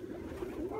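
Armenian fighting pigeons give a short, soft cooing call during a snowy winter flight.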